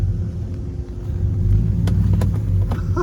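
A steady low rumble of a vehicle on the road pulling a camper trailer converted into a car hauler, constant and fairly loud with a few faint knocks, no voices.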